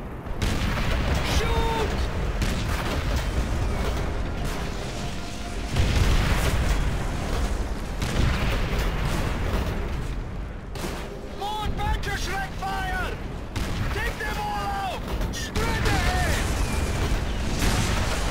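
Tank cannon and battle gunfire in the game Call of Duty: World at War, repeated heavy booms and crackling shots over a continuous roar of combat, with voices talking throughout.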